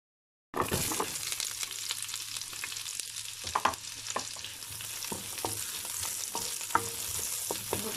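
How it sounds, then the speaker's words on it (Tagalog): Garlic and onion drop into hot oil for a pork asado filling and burst into a loud, continuous frying hiss after a brief silence, with scattered spatula scrapes. "Uminit yung oil, saka ilagay natin yung bawang at sibuyas."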